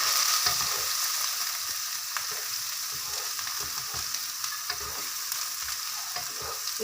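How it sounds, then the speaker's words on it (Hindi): Green onion frying in about half a spoon of oil in a hot pan, a continuous close sizzle and crackle with occasional stirring scrapes, no voices. "अब हम इसके अंदर वेजिटेबल्स फ्राई करेंगे। सबसे पहले मैं ग्रीन ऑनियन डाल रही हूँ,"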